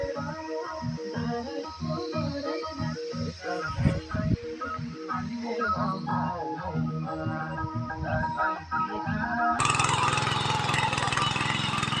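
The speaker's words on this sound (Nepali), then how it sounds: "हामी ट्र्याक्टरको सहायताले जोत्दैछौँ" A tractor engine chugs steadily while ploughing a sloping village field after a landslide, its rhythmic mid-pitched knocking running throughout before a harsher, louder roar takes over near the end.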